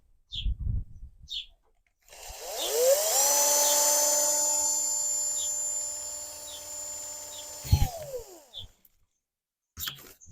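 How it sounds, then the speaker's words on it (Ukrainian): Small power drill boring little holes near the edges for a grapevine-growing tip, a high whine spinning up, holding about five seconds and winding down, with brief clicks before and after. "Беремо робочий інструмент і легенько на кінчиках, на краях робимо дирочки."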